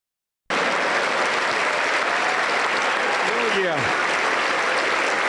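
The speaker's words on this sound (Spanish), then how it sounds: "Dele un aplauso libertador, al Señor Jesucristo." A Pentecostal church congregation bursts into loud, dense applause that starts abruptly and holds steady, while a voice briefly rises over it near the end.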